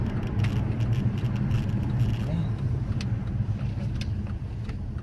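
Nissan Cima 4.5 V8 engine idling with a low, soft, steady rumble heard close by, not loud, while a person talks over it.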